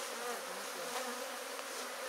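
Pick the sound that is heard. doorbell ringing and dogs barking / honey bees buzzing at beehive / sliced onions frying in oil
honey bees buzzing at beehive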